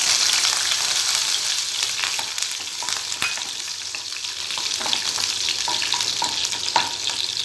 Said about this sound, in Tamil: அதை இதில் சேர்த்து வதக்கிக்கலாம்.